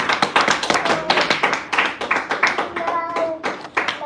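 A church congregation clapping hands loudly and fast in a joyful rhythm during a sermon, with many claps overlapping. Faint voices sound underneath the clapping.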